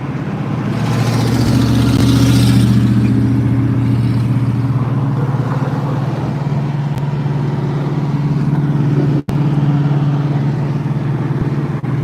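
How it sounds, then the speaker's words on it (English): A Fox body Mustang and other cars roll along Woodward Avenue, giving a loud, steady engine rumble that carries throughout, with one brief sharp dropout near the end. "there's a Fox body Mustang coming"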